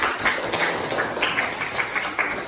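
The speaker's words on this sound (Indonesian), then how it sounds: "Kasih tepuk tangan dulu." An audience at a school practicum event breaks into applause, a dense wash of clapping with soft rhythmic bursts across the clip, fairly close and loud.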